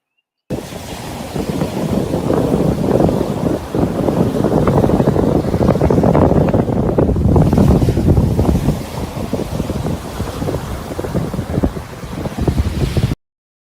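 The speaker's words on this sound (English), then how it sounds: "this little video of the ocean" Ocean waves at a beach rush and wash in a continuous, loud roar with gusty wind buffeting the microphone, swelling and easing slightly over the span.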